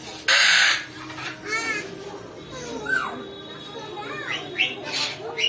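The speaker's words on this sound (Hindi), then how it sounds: "फिर से और एक मुर्गी कालू मुर्गी." A chicken calls with short rising and falling cries at a bird show in Kolkata, moderately close, amid children's voices and crowd chatter, after a loud burst of noise at the start.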